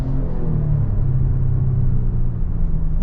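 A 2026 Ford Explorer ST pulls hard under acceleration, heard from inside as a loud, deep, steady engine rumble with no talking over it.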